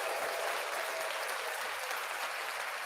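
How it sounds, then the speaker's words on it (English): A crowd claps steadily and densely for a few seconds, with no voices standing out. "why are we clapping?"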